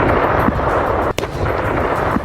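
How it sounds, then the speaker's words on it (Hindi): A missile strike on a Ukrainian military site sets off a heavy explosion, a loud, sustained roaring rumble of blast noise that dips briefly midway and then keeps rolling. "जिससे जोरदार धमाका हुआ।"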